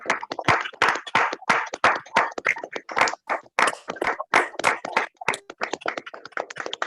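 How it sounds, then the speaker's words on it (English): Online participants applaud together over a video call, a dense run of quick, irregular claps with a compressed, slightly tinny quality. "Can all the participants unmute and let's applaud them?"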